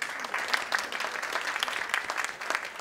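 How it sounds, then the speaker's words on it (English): Audience applause breaks out for event organizers at a maritime industry panel forum, a steady dense wash of many hands clapping from a moderately distant hall, with no talk over it. "give them a round of applause"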